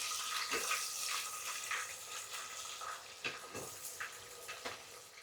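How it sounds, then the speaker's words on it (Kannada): Onions sizzling and frying in a pan while a Holi festival feast is cooked, a steady hiss with occasional stirring scrapes and crackles, fairly quiet and close, no talking. "ಮತ್ತೆ ಈರುಳ್ಳಿ ಹಾಕ್ತಾ ಇದ್ದಾರೆ."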